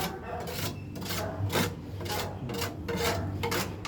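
A hand saw cutting through plywood, rasping in repeated back-and-forth strokes at close range with a steady rhythm.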